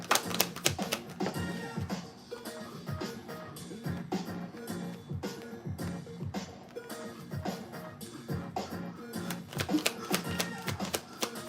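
Tarot cards are shuffled by hand in rapid, crisp riffling and tapping bursts that repeat steadily and close by, with faint speech-like sounds mixed in.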